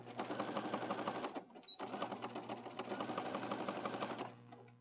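A sewing machine runs steadily, stitching over elastic for a junk journal project, with a fast even mechanical whir that pauses briefly once before resuming at full pace, close and alone.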